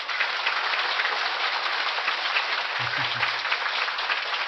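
A large audience applauds forcefully and continuously, a dense, steady roar of clapping that fills the whole stretch without a break.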